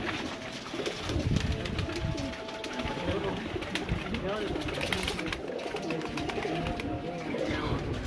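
Pigeons cooing on a rooftop, soft repeated coos spread through the scene amid general outdoor bustle and other bird calls, with people talking over them.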